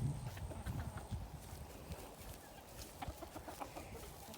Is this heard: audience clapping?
no